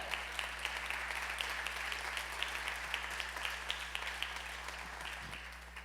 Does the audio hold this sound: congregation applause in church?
yes